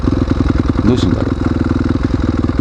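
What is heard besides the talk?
off-road motorcycles riding on a dirt forest road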